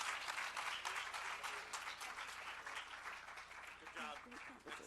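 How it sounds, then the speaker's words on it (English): Audience applause for Dr. Sania Nishtar and Bill Gates at an SDG Action Zone event on poverty alleviation in Pakistan, a dense steady roar of clapping filling the room, with a voice speaking faintly underneath near the end. "a huge round of applause for Dr. Sania Nishtar and Bill Gates"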